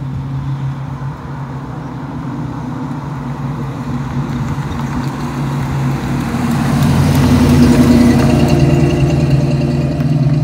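A Ford Mustang's engine runs at a steady, loud rumble, then revs harder and swells in volume partway through before holding at the higher pitch, close and with no talking.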